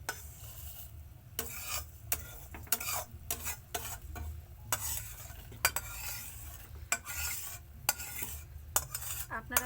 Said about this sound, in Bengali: আমার ভেজে রাখা সেমাইগুলো আমি এবার এর মধ্যে দিয়ে দেবো আস্তে আস্তে